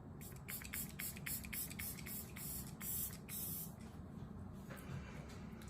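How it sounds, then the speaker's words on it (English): Several quick, close bursts of Glow Recipe setting spray mist hiss onto a face in a rapid series, followed by a pause and a couple more sprays over a low steady hum. "we're gonna spray the face with my Glow Recipe Setting Spray"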